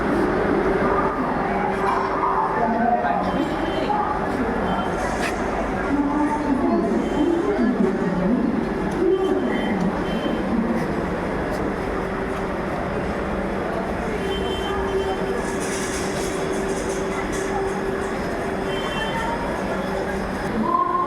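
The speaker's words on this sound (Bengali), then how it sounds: "বন্দে ভারত এক্সপ্রেস" The Vande Bharat Express train on the Howrah to NJP route gives a continuous loud rumble with a steady tonal hum, a broad sustained roar throughout with murmuring voices beneath.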